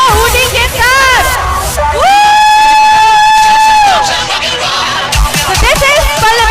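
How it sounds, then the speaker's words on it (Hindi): An audience of students at an award ceremony cheering and whooping over a loud crowd din, with shouts and sustained yelling voices rising and falling throughout. "जोरदार तालियां बच्चों हुडी के साथ"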